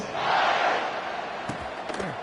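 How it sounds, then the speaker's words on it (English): A college football stadium crowd roars and buzzes after a scoring drive, a broad loud swell of cheering that settles into a steady distant rumble, with a couple of sharp shouts near the end. "this crowd is buzzing after that last score"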